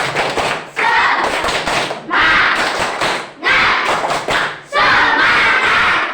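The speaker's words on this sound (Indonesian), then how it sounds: "Sebaiknya sebelumnya kita tepuk-tepuk dulu" A classroom group does a rhythmic clapping cheer in loud bursts of quick claps, with four clustered runs separated by short pauses.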